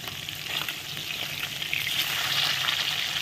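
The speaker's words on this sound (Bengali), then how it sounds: "আমি কিন্তু মাছটা ভাজছি হোয়াইট অয়েল বা সাদা তেলে।" Pieces of katla fish frying in white oil, a dense, steady sizzle heard up close, with light crackling throughout and no voices.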